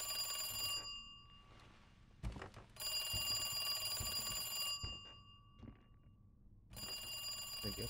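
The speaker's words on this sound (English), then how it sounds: "Phone call." An in-game telephone rings in the Resident Evil video game, sounding in repeated bright metallic bursts separated by short silences, with low clunks and thuds between the rings and no talking.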